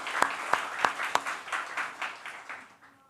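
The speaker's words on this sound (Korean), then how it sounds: "아깝게 필사를 못한 우리 다른 친구들에게도 힘을 내라고 박수 한번 해주시죠" Church congregation clapping during a Sunday service: a few loud, sharp claps stand out at the start, then a dense burst of applause that fades away over about three seconds.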